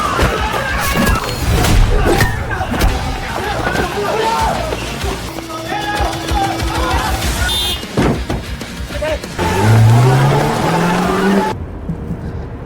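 Three friends in a gangster film flee in a stolen car, with a roaring engine, squealing tyres, skids and a crash, loud and busy under a narrator's voice.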